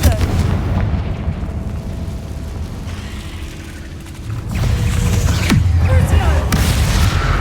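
A Confringo fire spell detonates in Hogwarts Legacy on Xbox Series X, a loud rumbling blast with a heavy boom partway through, set within dense game effects and background ambience.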